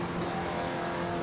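Engine of a 1950s 3-litre Jaguar race car in a racing video game, a steady loud drone with dense harmonics held throughout the short stretch, with no speech.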